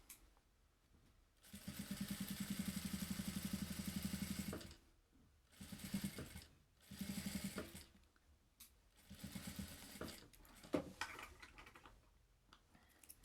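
A domestic sewing machine runs fast in steady bursts, its rapid needle stitching sewing a short seam through fabric, stopping and restarting several times between quiet pauses.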